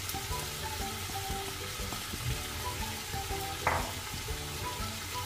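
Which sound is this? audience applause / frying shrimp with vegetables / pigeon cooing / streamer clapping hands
frying shrimp with vegetables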